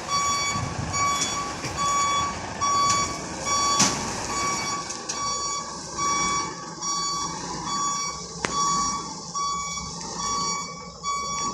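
A truck backs into a tight space, its reversing alarm beeping steadily over engine rumble and outdoor background noise, heard up close.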